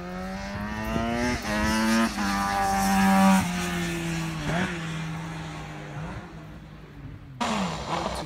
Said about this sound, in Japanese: 確かに高回転まで回した時の音はインライン4に勝るものはないですね